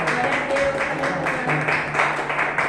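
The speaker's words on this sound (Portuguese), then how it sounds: "as palmas louvam o Senhor" A church congregation applauds to praise the Lord, producing a dense, steady wash of many hands clapping together that stays loud and even for the whole stretch.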